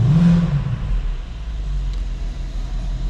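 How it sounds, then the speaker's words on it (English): A cold Mercedes SLK55 AMG with its 5.5-litre V8 gets a brief rev toward 3000 RPM, a low throaty swell at the start that settles into a steady, rumbling idle, close and fairly loud. "Just revving it to 3000 RPM as the engine is cold"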